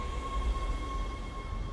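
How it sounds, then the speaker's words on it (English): A shipboard tram arrives at a station in the video game Dead Space: a low, steady mechanical rumble with a thin sustained electronic hum over it, moderately quiet and without voices. "Tram arriving at flight deck station."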